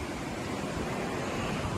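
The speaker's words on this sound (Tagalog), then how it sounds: "Ang lakas ng alon, oh." Strong ocean waves at a shoreline, heard as a steady, broadband roar of surf with some wind noise on the microphone, continuous and fairly loud with no speech.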